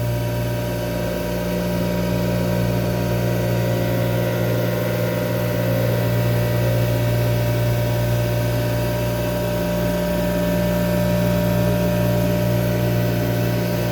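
A CNC mill runs a 3D dynamic tool path inside a powered fishing reel cover at 3,500 RPM. It makes a continuous loud machine hum with strong steady tonal whine and broadband noise that never changes.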